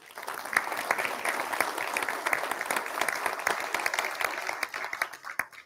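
Applause from the audience at a company all-hands meeting during an award announcement: dense, steady clapping from a sizable crowd for several seconds, fading slightly at the end.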